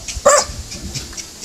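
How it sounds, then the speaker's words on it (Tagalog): A dog at a house barks in a short burst of a few sharp yips near the start, fairly close, followed by quieter room noise with no talking. "Ay, may aso."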